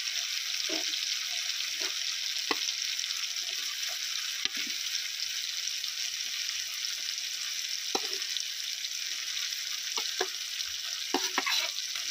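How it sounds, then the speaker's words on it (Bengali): Fried potatoes being stirred into a cooking masala for Rajasthani-style masala rice, giving a steady sizzle in the pan with scattered scraping stir sounds, no talking. "এই মশলার মধ্যে ভেজে রাখা আলুগুলো দিয়ে দেবো"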